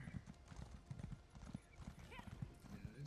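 Horse hooves clip-clopping at a gallop in Elder Scrolls Online, a quick rhythmic run of close hoofbeats with a brief whinny, heard alone without talk.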